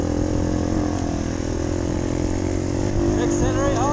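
A moped engine accelerates hard during a five-hour enduro race at Winchester, giving a loud, continuous buzzing drone up close that holds steady and rises slightly toward the end.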